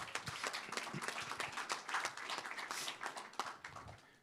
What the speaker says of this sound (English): Let's give a round of applause for Mr.